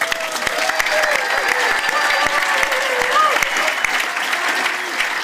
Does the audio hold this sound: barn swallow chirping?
no